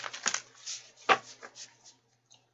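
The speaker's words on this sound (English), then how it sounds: "we're actually going to give it another shuffle" Tarot cards being shuffled by hand, a few quick soft riffling flicks close by, faint and brief with a low background hum.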